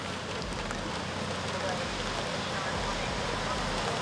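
Rain falling steadily outdoors during horse riding practice, a constant dense hiss with low rumbling wind noise, loud and unbroken throughout.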